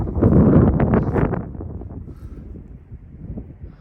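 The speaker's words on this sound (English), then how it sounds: "This wind is chilly." Chilly wind blowing across open meadows, a loud rushing gust at first that fades to a softer, steady blow.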